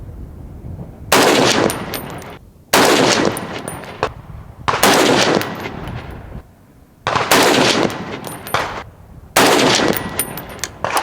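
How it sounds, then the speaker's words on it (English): Five loud, close rifle shots from an unsuppressed gun on a long-range shooting setup, each blast ringing out for a second or more and spaced roughly two seconds apart. "we're gonna shoot a 5-round group without the suppressor on there"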